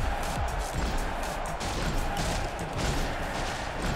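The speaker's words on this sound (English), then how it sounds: "Oh, it's a firework." Fireworks bursting during a New Year's Eve event in a video game, a dense run of crackling, popping blasts that fills the clip with steady, loud noise, with players' voices reacting over it.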